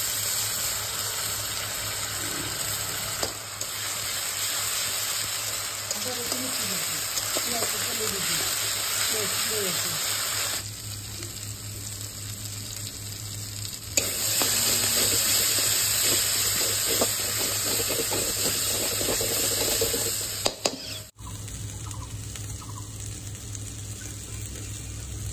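Onion with ginger, garlic and onion paste sizzles and hisses steadily in a pan, a loud continuous frying noise with brief shifts in intensity. A voice speaks over it at times.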